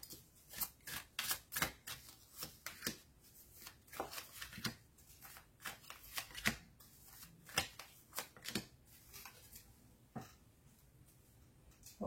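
Tarot cards being shuffled and drawn for a relationship reading, a close, crisp run of riffling flutters and snapping slaps that come in uneven bursts across the whole stretch, with no voice over them.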